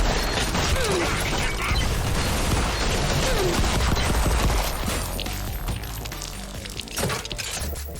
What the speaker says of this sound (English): The weapon feedback in this looks impressive, with powerful shots and even a variety of grenades that you can use.